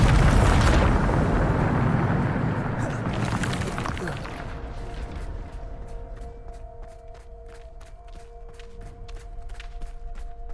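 A Bombarda explosion spell from the Hogwarts Legacy video game erupts in a loud, broad blast that rumbles for several seconds and then decays into quieter tonal hums and sparse clicks.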